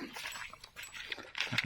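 A dog howls outdoors during a rural hunt for red ant eggs, a short, rough, wavering cry that rises and falls over about two seconds against faint background noise.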